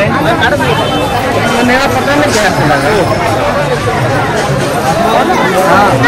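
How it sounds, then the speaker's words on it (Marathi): Dense crowd chatter near the Sarayu river in Ayodhya: many overlapping voices form a loud, continuous babble close around, with no single sound standing out. "बरीच गर्दी आली"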